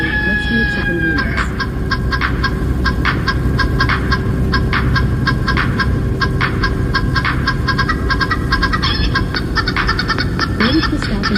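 A remix sound alert playing on a livestream from a truck, a loud, dense run of rhythmic clucking and honking bird calls set to a beat that fills the whole stretch.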